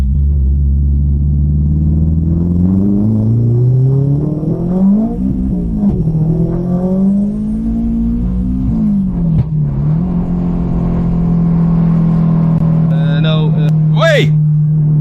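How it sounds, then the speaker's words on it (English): A 502 hp Honda Civic on a test drive, engine droning and rising in pitch through gradual acceleration, loud and close from inside the car, with a brief shift dip midway and a short whistling squeal near the end. "I didn't go full throttle at once, but gradually to first feel out the car."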